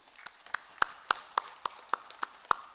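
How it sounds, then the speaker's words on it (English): Applause at an official celebration, heard as a sparse, faint run of about ten evenly spaced single claps, crisp and distant, with no voices over them. "I think one round of applause."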